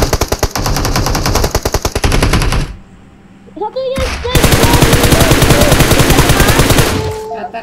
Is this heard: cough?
no